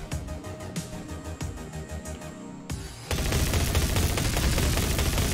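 Gunfire in the shooter game Black Ice comes as rapid rhythmic bursts of shots, then a denser, louder stretch of continuous firing.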